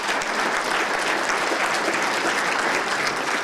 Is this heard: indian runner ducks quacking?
no